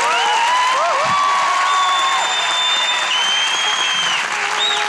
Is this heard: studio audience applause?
yes